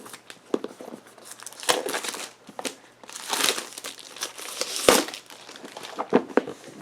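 Plastic shrink-wrap torn and peeled off a Sub Terra board game box: sustained close crinkling and crackling in bursts with brief pauses, loud and alone.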